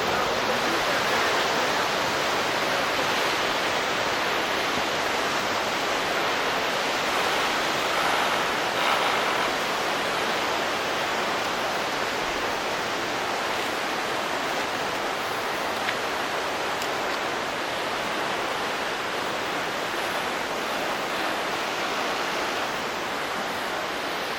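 Steady, loud rush of the Vltava River flowing in Český Krumlov, Czech Republic, fills the whole stretch, a constant broadband roar with no pauses and no voices.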